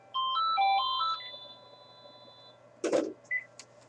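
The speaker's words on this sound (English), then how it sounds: "We don't need a phone ringing while we're doing a video." A telephone ringtone plays a short electronic melody of stepped tones for about two seconds and then stops, followed by a couple of brief louder knocks or handling sounds close by.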